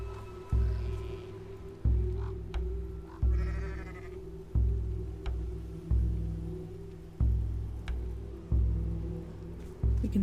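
A sheep in the video game Island of Winds bleats in a steady series of loud, close calls, roughly one every second and a half, over a low ambient bed.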